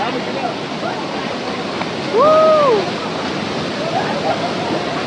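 The waterfall at Shivdav roars as a steady, dense rush of water that fills the whole stretch, with one brief voice-like tonal sound rising above it midway.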